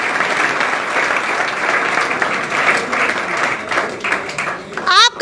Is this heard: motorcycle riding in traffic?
no